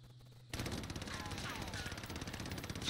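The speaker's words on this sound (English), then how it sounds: "This is the recoil of the gun without controlling." An AS44 rifle in the Warzone video game fires a sustained full-auto burst with recoil left uncontrolled, a dense rapid rattle of shots running steadily after a brief quiet start.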